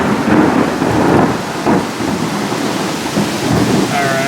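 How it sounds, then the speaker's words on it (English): A hailstorm with thunder: a loud, dense, continuous pelting and hiss over a flooded yard, with deep rumbles underneath and no talk. "That is all hail."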